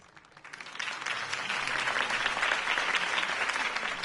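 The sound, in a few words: applause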